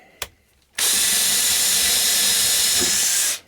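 Power drill driving a screw into a plywood sheet mounted on a wall, a sharp click followed by a loud, steady high whir lasting nearly three seconds before stopping abruptly.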